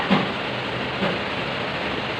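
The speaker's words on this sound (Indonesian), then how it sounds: "hujan deras." Heavy rain pours steadily as a dense, even hiss that stays loud and constant throughout, with a couple of faint soft knocks near the start and around one second.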